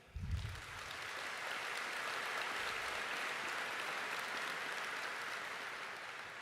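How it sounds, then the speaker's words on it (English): Steady audience applause fills a large conference hall, loud and sustained throughout after a brief low thump at the start, with no talking over it. "Can we get a round of applause for UPMC?"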